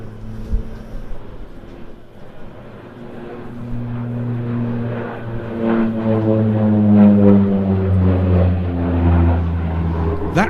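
Bronco light armed reconnaissance aircraft, a 1960s US military design, performing aerobatics at the Jersey International Air Display, its propeller drone steady and rising in level as it passes with shifting tones.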